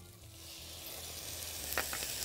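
Vinegar hits a hot pan in a kitchen where chicken thighs are cooking for a spicy mango sauce, giving a steady, soft sizzle that swells slightly and carries a few faint clinks.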